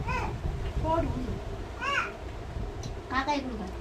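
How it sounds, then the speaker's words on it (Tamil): A crow caws several times nearby, harsh drawn-out calls repeated at roughly one-second intervals, mixed with voices and background noise. "காக்காயை பத்தி விடு"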